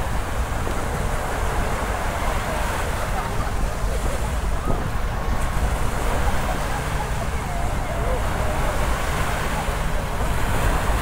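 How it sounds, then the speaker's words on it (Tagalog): Sea waves wash continuously at El Nido, Palawan, a loud broadband rush mixed with heavy wind buffeting the microphone, steady throughout. "siyempre dagat yan eh"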